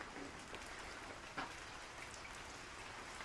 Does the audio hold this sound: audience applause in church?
no